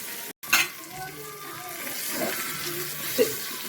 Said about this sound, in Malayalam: ഇത് നമുക്ക് ഇങ്ങനെ ഇളക്കി മുട്ടിച്ചെടുക്കട്ടെ ഞാൻ നല്ലോണം ഇളക്കട്ടെ